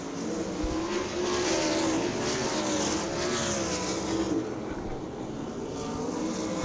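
Several 410 sprint cars roar around Lincoln Speedway on the final lap of a heat race, a dense, continuous engine howl with rising and falling pitch as cars pass, loud and steady throughout.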